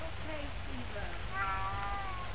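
A cat rescued after three days stuck up a tree meows in several drawn-out, wavering cries, close and clear, with a person talking nearby at the same time.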